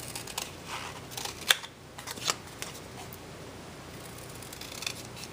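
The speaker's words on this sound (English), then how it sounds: "I'm going to cut this into the pieces I want." Scissors snipping through paper art tiles to cut them into pieces, a few sharp close cuts over a quiet background.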